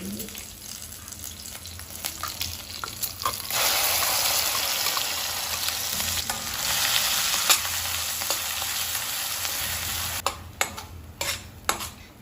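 Ground spice paste hitting hot oil in a pan while cooking restaurant-style soya chunks curry, a loud steady sizzle that swells and then settles into continuous frying with stirring clatter toward the end.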